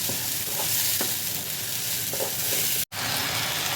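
Fried rice and meat being stirred together in a pot for biryani, with steady loud sizzling and scraping throughout and a brief break near the end; no voices.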